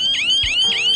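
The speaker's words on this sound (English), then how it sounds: "Outdoor siren alarm." Loud, close electronic siren from a home security system's outdoor siren alarm, cycling in quick rising whoops about every quarter second.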